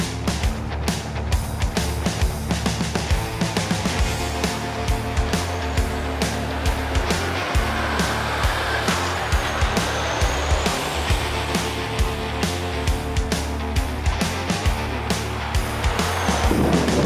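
A Volvo FH truck's 460 hp engine drones steadily while driving, with a constant low rumble and rhythmic clatter, loud and close throughout.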